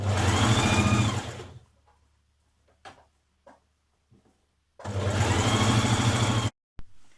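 Two bursts of a sewing machine stitching around dress pocket pieces, each a loud, close, steady motor whir lasting a second or two, separated by quiet gaps with faint clicks and handling.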